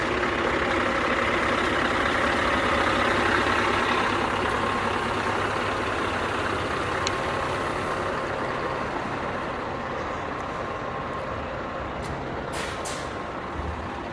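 A Scania R620 heavy wrecker truck idles steadily nearby, a continuous low diesel rumble with broadband noise, while a couple of brief hissy bursts like air releases stand out near the end.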